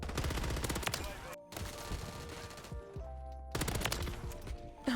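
Rapid bursts of RAM 9 SMG fire from Modern Warfare 3, loud and close, with repeated automatic strings broken by short pauses and a reload gap, plus other game sounds between bursts.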